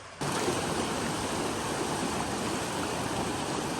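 A river flows near a campsite on an overland trip across the USA, producing a steady, close hiss of rushing water that starts abruptly and holds evenly throughout.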